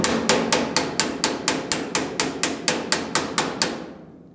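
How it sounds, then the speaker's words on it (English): Steady hammer blows on a dented GTO steel body panel, each strike glancing and sliding, about fourteen sharp ringing taps in an even rhythm, close and loud, ending in a fading ring. "my blows with the hammer are a glancing blow, and I'm just really hitting and sliding at the same time"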